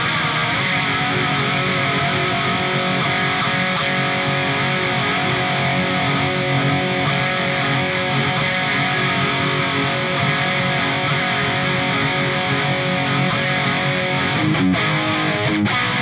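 A distorted electric guitar played through a chorus pedal after an overdrive, continuous with a thick, swirling, sustained tone, loud and constant throughout.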